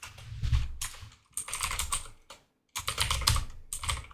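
Bursts of rapid typing on a computer keyboard, clattering keystrokes in dense runs separated by brief pauses, close and fairly quiet, with no voices.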